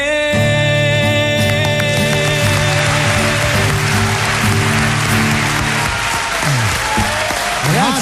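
A studio audience at a live radio show applauds a singer with steady, loud clapping, while music plays and voices speak over it throughout.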